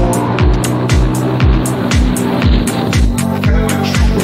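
A KTM Duke 390 motorcycle engine misfiring after a broken air filter, running loud and close with a steady drone broken by regular stumbling pops about every half second, at a Navi Mumbai race track.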